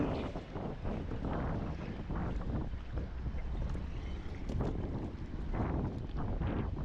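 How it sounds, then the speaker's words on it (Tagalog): Steady, loud wind buffeting the microphone over a low rumble of moving water, continuous throughout with no talking. "Hangin, hangin."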